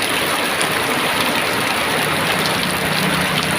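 Heavy rain pours down in a dense, continuous hiss, loud and steady with no pauses.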